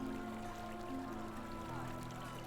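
Water trickling steadily from a fountain in a sunny marketplace in the Lord of the Rings Online game, a continuous soft splash beneath faint lute music and ambient game sounds.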